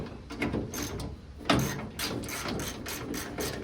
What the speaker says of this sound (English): what I do now is just snug these up with the right ratchet